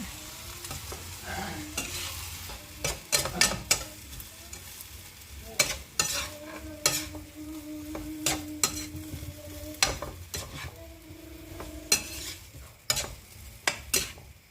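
Bihon noodles stir-fried in a pan, with repeated scraping and clattering strokes of a spatula over a low sizzle. The strikes come in uneven bursts, close and fairly loud, with no talking.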